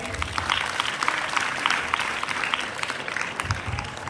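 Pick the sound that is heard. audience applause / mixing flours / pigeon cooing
audience applause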